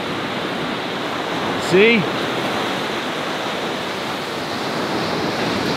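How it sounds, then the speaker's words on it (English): Ocean waves roll in at high tide, a broad steady roar of surf with wind, and a person speaks briefly over it. "Watch this wave here. Is that gonna break?"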